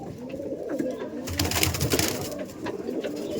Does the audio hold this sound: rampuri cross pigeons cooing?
yes